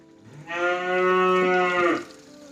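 A single long, loud, close moo from cattle at a farm where cows and buffaloes are kept, rising and holding for about a second and a half before fading.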